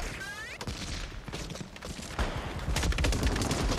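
Gunfire in a Saving Private Ryan war film scene: bursts of rapid shots and heavy impacts crackle through a loud battle mix, growing denser and louder toward the end, with shouted voices in the chaos.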